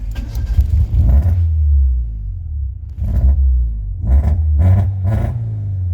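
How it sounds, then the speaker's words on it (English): A Toyota AE82 with a 4A-GE twin-cam engine turns over and runs at a rough, uneven, misfiring idle, its low rumble surging and revving in several bursts. "in here she's idling erratically and she is missing"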